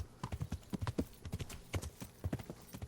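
A horse's hooves clip-clopping while riding through a farm in Kingdom Come: Deliverance, a steady rhythmic run of hoofbeats in a gait pattern, moderately close over faint background ambience.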